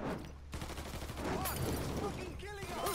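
Gunfire in the video game Mafia 3, a burst of rapid shots and impacts under raised voices and game clatter, loud and close for a few seconds.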